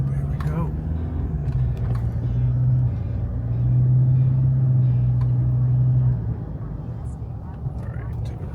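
A car drives through Panama city streets with a steady low engine rumble that swells and then eases off. A voice speaks over it.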